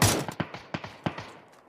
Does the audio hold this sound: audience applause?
no